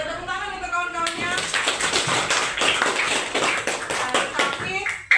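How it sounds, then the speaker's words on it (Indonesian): A class of children applauds their classmates in a schoolroom, a dense burst of quick, close hand claps starting right after a teacher's voice and running to the end. "Yuk, tepuk tangan untuk kawan-kawannya."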